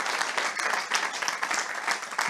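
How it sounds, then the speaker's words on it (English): An audience applauds after a person is introduced at an alumni network fireside chat. The clapping is dense and steady, moderately loud, and fills the short stretch without a break. "So please, a round of applause for Michelle."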